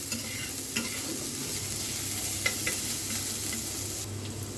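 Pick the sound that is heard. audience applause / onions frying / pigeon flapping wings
onions frying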